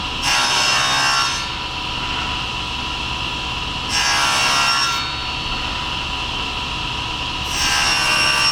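Hand saw blade working back and forth through wood while cleaning out drawer rabbets and dados, with three long rasping strokes separated by quieter scraping, close and loud.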